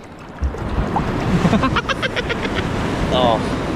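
Strong floodwater waves slosh and churn in a constant roar close by. Voices speak over the rushing water.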